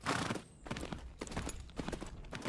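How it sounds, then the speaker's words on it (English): In the horse-riding game Tales of Rein Ravine, hooves strike the ground in a steady clip-clop rhythm of repeated thuds, fairly close and moderately loud, with no talk. "line it up with where the leading front leg is hitting the ground, and just kind of get in your head the sound that plays when that happens"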